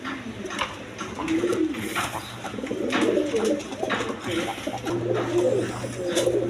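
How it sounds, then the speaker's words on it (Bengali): Lotan pigeons in a loft coo in repeated soft, throaty rolls, several birds overlapping close by, with a steady low hum underneath and faint voices at times. "এখানে এক পেয়ার দেখেন কবুতর আছে নট হইল আপনার বোম্বাই মাটিটা হইল গিয়ে আপনার লটন কয় লটন লটন কবুতর"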